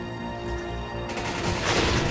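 A loud explosion in the video game Resident Evil 5 erupts partway through amid rattling gunfire, producing a dense, sustained burst of noise.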